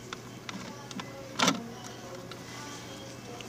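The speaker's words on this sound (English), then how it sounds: "So now I'm gonna put this little cover back in." A single sharp plastic click as a shifter cover is pushed back into place in a Dodge Charger, Magnum or Chrysler 300, near and brief, with faint scattered ticks around it in a quiet cabin.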